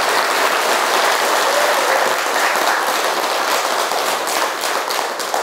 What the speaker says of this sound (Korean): 우리 스님께도 박수를 드리고 여러분도 자축의 박수를 한번